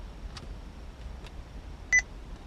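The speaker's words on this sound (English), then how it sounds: "now let's go ahead and power on the detector and take a closer look at it" Uniden Redline EX radar detector powering up with a few short, quiet electronic beeps spread out over a faint background hiss, ending in a brighter double tone.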